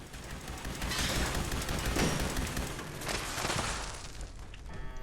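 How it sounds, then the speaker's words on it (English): Robot gunfire in Fallout 76, rapid bursts of shots in a dense, rattling volley that swells and fades over several seconds, fairly loud and close with no talk over it. "because he's shooting from way up there"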